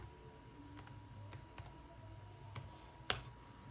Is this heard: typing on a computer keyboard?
yes